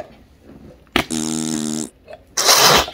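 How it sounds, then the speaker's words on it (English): Slime squeezed inside a container gives a loud, buzzing fart-like squelch lasting nearly a second, followed by a second harsh burst of air, recorded up close. "See if you can make slime noise, a fart noise."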